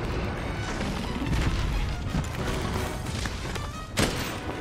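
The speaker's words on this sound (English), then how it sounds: "I shot you with sleep ammo" Sleep ammo fired from a bowgun in Monster Hunter World: dense, loud, continuous crashing combat noise with repeated impacts and a sharp hit near the end, close and steady throughout.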